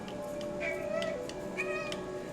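A cat meows twice, two short rising-and-falling calls, close and fairly loud over a faint background murmur.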